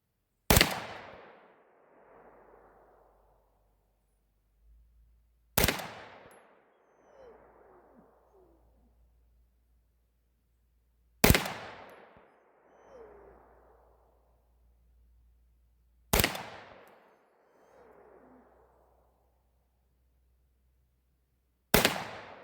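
Cheap 9mm range ammunition, Browning and Remington, fires outdoors at a range in five sharp single shots spaced about five seconds apart, each with a loud crack and a short echoing tail.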